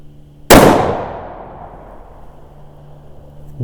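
A single sharp rifle shot from a Weatherby Vanguard in 6.5 Creedmoor cracks loudly near the start, then its report decays into a long fading echo with a low steady hum underneath.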